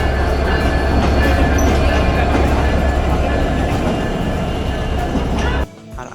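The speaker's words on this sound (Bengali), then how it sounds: "আর এইটা হলো খুলনা রেলওয়ে স্টেশন।" A train pulling into Khulna railway station makes a loud, steady rumble and clatter that holds for several seconds before cutting off abruptly near the end.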